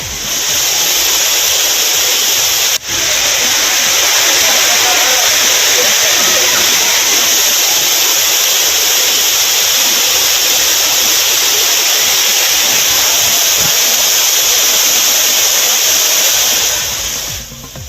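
Courtallam waterfall in Tamil Nadu pours with a loud, constant rushing roar, close and unbroken for the whole stretch, one brief click near the start.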